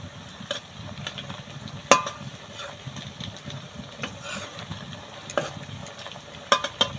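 Cauliflower paneer frying in a pan, a soft continuous sizzle with scattered sharp taps and scrapes from a utensil turning the pieces.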